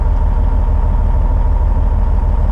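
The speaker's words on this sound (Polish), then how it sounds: "Silnik się zagrzał, więc startujemy." A warmed-up truck engine idles on a cool, rainy day: a loud, close, steady low rumble that holds evenly throughout with no change in pitch and no talking.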